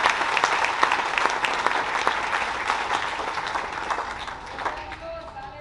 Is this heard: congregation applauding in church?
yes